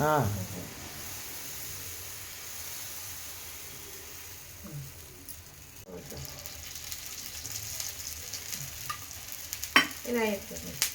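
Dosa batter cooking on a hot oiled pan, with a soft steady sizzle under scraping and stirring clatter, a few sharper utensil knocks near the end; a voice talks briefly.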